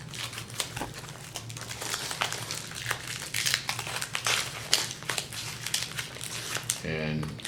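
Packing tape on a mailed box being crinkled and peeled off, a steady run of close crackling and rustling bursts with a voice speaking over it.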